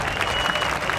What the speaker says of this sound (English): I hear, God, all this applause.